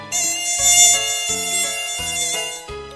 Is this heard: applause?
no